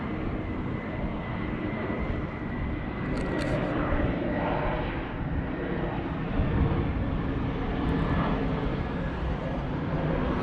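A propeller airplane flies over the sea cliffs of Madeira's eastern tip, a steady, fairly loud engine drone that swells slightly mid-way, heard alone without talk over wind and outdoor ambience.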